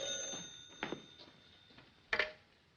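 An old telephone in a 1940s household rings in short, faint bell bursts with quiet gaps between them, heard alone in a still room.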